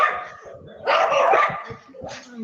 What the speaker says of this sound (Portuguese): os cachorros estão muito agitados aqui